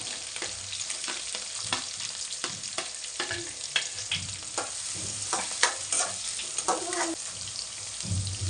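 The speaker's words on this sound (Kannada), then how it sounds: "ಚೆನ್ನಾಗಿ ಫ್ರೈ ಮಾಡಿ. ಈರುಳ್ಳಿ ಹಾಕ್ತಿದ್ದೀನಿ." Chopped green chillies and onion fry in oil for egg bhurji, a steady close sizzle broken by repeated stirring scrapes and clacks of a utensil against the pan throughout.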